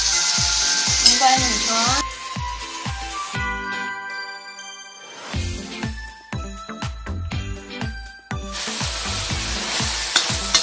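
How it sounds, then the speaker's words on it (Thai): Spinach stir-fried with soy sauce sizzles loudly in a pan, with rhythmic metallic scraping and clinking of the spatula throughout and a short quieter lull midway before the frying resumes. "ผัดผักโขมค่ะ แบบผัดใบปอนะคะ"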